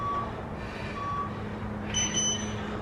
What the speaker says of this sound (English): Don't stop until that timer beeps.